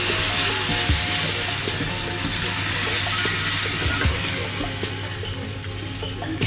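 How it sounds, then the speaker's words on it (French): Zucchini and garlic sautéing in a pan, a loud, steady sizzle that runs throughout with a few faint clicks of utensils. "Vous faites revenir vos courgettes, pas trop longtemps"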